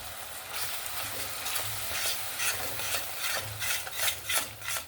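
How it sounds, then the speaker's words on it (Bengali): Ground spice masala with a little water stirred and sautéed in a pan for chicken kofta curry, a continuous close sizzle broken by repeated scraping spoon strokes that grow louder toward the end, no talking. "এই গুঁড়ো মশলাটা যাতে পুড়ে না যায় একটু সামান্য পরিমাণ জল দিয়ে আবারও আমি কষিয়ে নেব"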